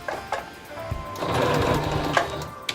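A sewing machine runs in a rapid, steady mechanical chatter for a second or so, framed by a few soft clicks and taps.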